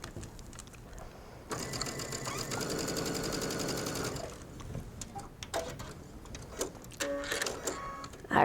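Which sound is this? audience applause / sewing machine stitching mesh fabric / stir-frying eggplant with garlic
sewing machine stitching mesh fabric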